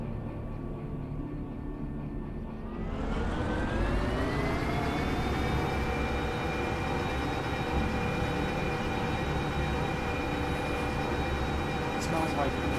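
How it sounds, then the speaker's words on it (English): A locomotive shunts in a train video game, with a steady low engine rumble that rises in pitch and loudness as it powers up and then holds a continuous droning hum, with a faint click near the end. "Let us shunt locomotive."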